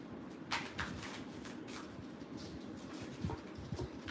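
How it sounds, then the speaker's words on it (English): Tarot cards are shuffled by hand in a quiet room, giving soft, repeated riffling and sliding bursts with small taps, faint and close. "Let me go ahead and shuffle these cards."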